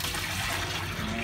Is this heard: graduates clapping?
no